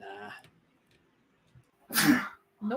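A sneeze bursts out once, fairly close and loud, in a casual online tabletop role-playing session, with brief talk before and after it.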